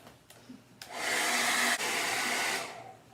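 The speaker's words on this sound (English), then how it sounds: "Now I'm going to get the blow dryer and I'm going to just start drying this a bit" A blow dryer switches on and blows with a steady, airy whir for about two seconds, drying burlap fabric, then shuts off.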